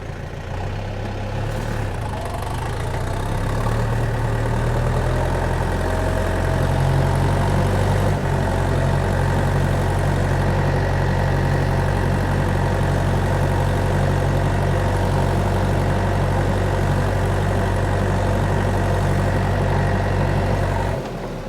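Tractor engine running in second gear at about 1400 rpm while spreading fertilizer during autumn sowing, a loud continuous low diesel rumble that settles into a steady drone after the first few seconds.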